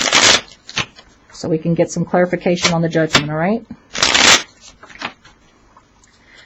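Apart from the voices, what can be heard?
shuffling tarot cards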